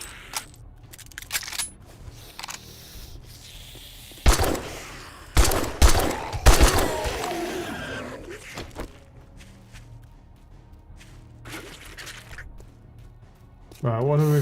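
Gunfire in a zombie survival game, bursts of loud rapid shots in the middle with scattered clicks and footsteps around them, and someone talking intermittently over the action.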